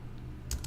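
A couple of quick keystrokes tap on a computer keyboard while code is typed, close and quiet against a soft room hum, with no talking.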